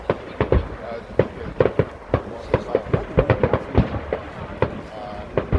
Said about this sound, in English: I think the fireworks matches the music